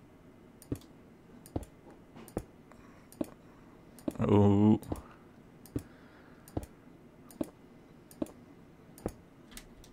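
Computer keys click sharply at a regular pace, roughly once a second, during a Minecraft Skyblock session, with a short vocal exclamation breaking in midway.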